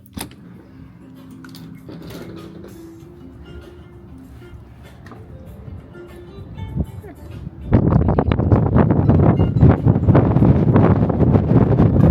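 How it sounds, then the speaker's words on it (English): Wind buffets the microphone in soft gusts on an outside deck of a cruise ship at sea, then a loud, rough roar of wind takes over suddenly and continues strongly. "let's see how windy it is out here"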